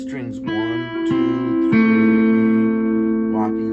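An acoustic guitar picks the intro phrase of a song, clear plucked notes ringing and sustaining up close, with a few new notes struck before the final chord hangs.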